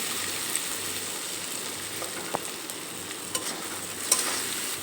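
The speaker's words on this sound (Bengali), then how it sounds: "মশলার সঙ্গে আলু আমি খুব ভালোভাবে কষিয়ে নিয়েছি।" Potatoes frying with spices in oil in a pan for a fish roe curry, giving a low, steady sizzle with light stirring taps and occasional small crackles.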